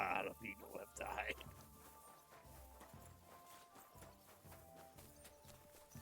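Horse hooves clip-clopping in the video game Kingdom Come: Deliverance 2, a steady footfall rhythm beneath game music and ambience, with a brief louder passage at the start.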